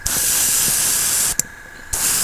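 Steady close hiss of a protective clear coat sprayed onto a miniature, one long burst that cuts off briefly, a faint sputter, then resumes. No voices.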